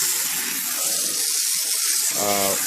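A garden hose sprays water across an old wooden deck to wash it, a steady, close hiss that runs the whole time and swells slightly near the end.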